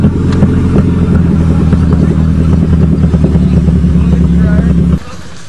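A Volkswagen Golf engine revs hard climbing a hill on a farm, loud and close with rattling clatter, then drops off abruptly near the end; people talk over it.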